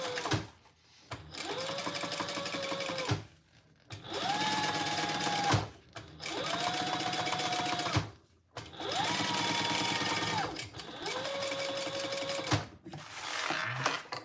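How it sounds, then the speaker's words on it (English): A sewing machine top stitching fabric while making a Monarch Mini, running in five steady whirring bursts separated by short pauses, close and clear with no talking. "let's top stitch this"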